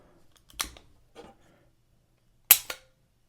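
The hammer of an old Smith & Wesson Model 10 police revolver is cocked and dry fired single action. Two sharp metallic clicks sound close and loud, with faint mechanical ticks between them and silence around them.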